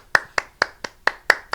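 One person claps their hands in applause, seven sharp, evenly spaced claps about a quarter second apart, close and alone with no voices.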